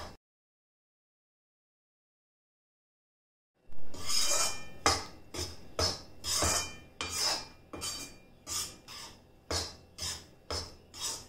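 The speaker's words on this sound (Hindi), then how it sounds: "जैसे बेसन भूनते हैं वैसे ही ये भी आटा हमें भून लेना है।" Whole-wheat flour for methi laddoos is dry-roasted in a pan with a spoon, heard after several seconds of silence as a series of rhythmic, close scraping strokes, about one per second, with no speech.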